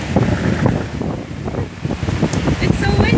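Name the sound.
strong wind blowing outdoors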